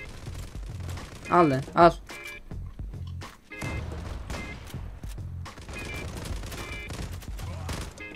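Gunfire in the online shooter Zula, bursts of shots under a player's agitated talk and shouting, with a couple of louder cries near the start.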